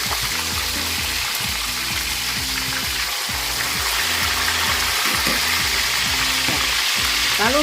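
Mackerel fish frying in hot oil, a loud steady sizzle with crackling pops and a rhythmic stirring clatter running throughout, close up.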